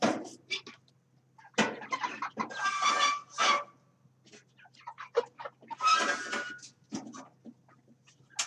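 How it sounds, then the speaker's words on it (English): Chickens clucking and squawking in bursts close by, with a faint steady hum in the background and no talk. "Igor has found an alternative method to getting the chickens out"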